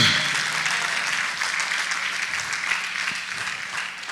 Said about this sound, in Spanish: Regálele palmas una vez más al Señor.